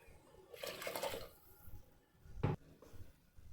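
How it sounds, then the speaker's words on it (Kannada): Hot water poured into fried masala in a pressure cooker for methi pulao, a soft splashing pour followed by a brief sizzling gush and faint liquid sounds, quiet and close. "ಈಗ ಇದಕ್ಕೆ ಒಂದು ಲೋಟ ಅಕ್ಕಿಗೆ ಎರಡು ಲೋಟದಷ್ಟು ಬಿಸಿ ನೀರನ್ನು ಹಾಕೋತಾ ಇದ್ದೀನಿ"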